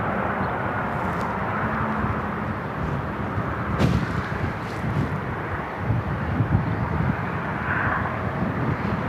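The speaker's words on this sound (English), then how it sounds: "Got a BA 777 flying over us." A British Airways Boeing 777 airliner passes overhead, a steady broad roaring rumble joined by wind buffeting on the microphone, holding at a constant level throughout.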